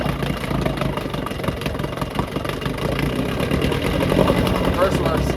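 A 6HP Johnson outboard motor runs in gear under throttle, a steady droning engine sound that continues through the whole stretch and swells slightly toward the end. Voices can be heard alongside it.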